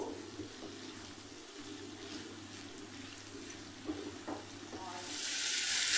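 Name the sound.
stirring vegetable spring roll filling frying in pan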